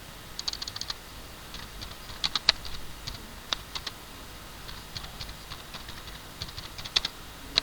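Keys clatter on a computer keyboard in a programming lecture, with quick irregular bursts of typing broken by short pauses, faint and close, with no voices.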